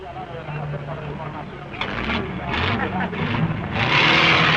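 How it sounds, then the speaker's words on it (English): Small stock cars rev and roar together at the start of a race in the 1954 Carrera Panamericana, with engine noise building in surges and growing loudest near the end, mixed with a background voice. "Now the small stock cars are ready for a razzle-dazzle race."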